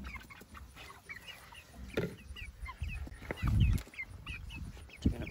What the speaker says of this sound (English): All right, Mr. Rooster, here's your treat